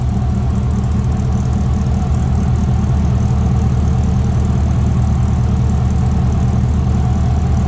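A 1967 Chevrolet C10 Shortbox Stepside pickup truck engine idles close by, steady and rumbling, a deep low throb with a constant mid-range hum and no voices.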